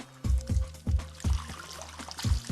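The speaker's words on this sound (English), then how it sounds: "squeeze the hose to control the flow of water" Dirty water drains from the recovery tank hose of a Windsor Clipper Duo carpet extractor, coming in repeated gurgling gushes about every half second as the hose is squeezed, close and fairly loud.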